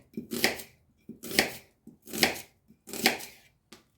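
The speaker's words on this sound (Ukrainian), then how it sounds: "Цибулю наріжу такими півкільцями." A knife slices an onion into half rings, four firm chopping strokes against a board in a steady rhythm, each with a short crisp cut, close and clear with no talk.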